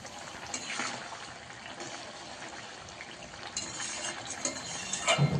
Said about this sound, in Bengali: ভাজা মাছগুলো এবার ঝোলের মধ্যে দিয়ে দেব।